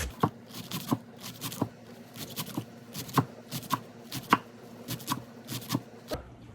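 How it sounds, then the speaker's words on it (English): Knife thinly slicing celery and cucumber on a cutting board, a close series of crisp, fairly regular chopping taps, about two per second, with no talk over them. "we're slicing really, but we want thin slices here"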